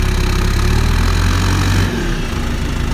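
A backhoe loader's heavy diesel engine runs loud and close, idling rough then surging as it revs, with a slight dip in pitch near the end.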